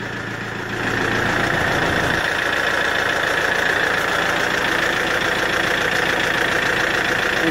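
A Kioti RX7320 tractor engine starts up after a quiet moment and settles into a loud, steady, close idle with a constant throbbing drone that lasts to the end.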